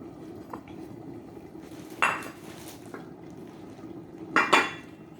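A metal pot lid clanks shut over eggplant cooking in a pan, two distinct clattering hits a couple of seconds apart, near and clear over faint sizzling, no talk.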